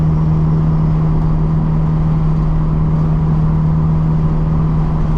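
Constant low road and tyre rumble inside a modified Nissan S15 while driving, an even steady drone with a faint engine hum throughout and no voices.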